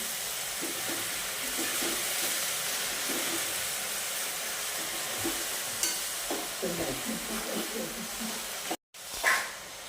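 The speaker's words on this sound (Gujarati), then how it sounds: "થોડી પાલક શેકાઈ જાય ને ત્યાં સુધી હલાવવાનું." Spinach stirred and roasted in a hot pan for palak paneer, a steady sizzle with repeated scraping of the spoon against the metal, briefly cut off near the end and then resuming with a burst of hiss.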